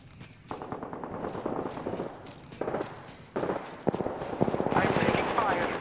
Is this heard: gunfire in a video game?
yes